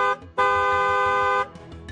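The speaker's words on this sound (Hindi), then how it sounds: "इसे लेकर हॉर्न बजाना जरूरी है।" A single loud car horn blast, held steady for about a second after a brief lead-in, with no talk.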